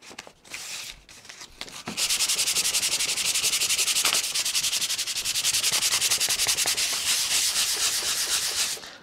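A wooden panel is sanded by hand with 150-grit sandpaper to prepare it for painting: after a few brief handling knocks, steady close rhythmic rubbing strokes continue for about seven seconds, with no talk.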